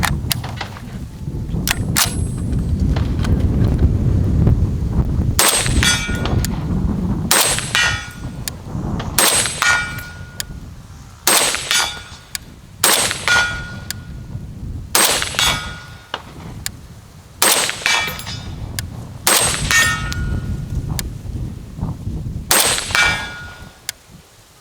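A FEG HD-18 SVD Dragunov-style rifle fires a magazine at steel targets. Sharp, loud shots come at irregular intervals of a few seconds, each followed by a ringing clang of the struck steel, with no talking.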